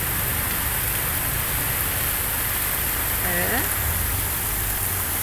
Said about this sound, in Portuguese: 19h57, chuvarada em São Vicente.